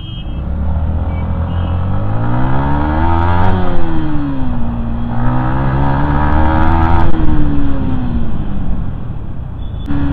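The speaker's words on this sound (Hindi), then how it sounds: "जैसे ही यहाँ से स्टार्ट होगा ना तुम्हारा भाई निकलेगा फुल थ्रॉटल पे।" A Yamaha MT-15 motorcycle accelerates hard at full throttle on a city street, its engine note rising in pitch with gear changes, loud and close throughout.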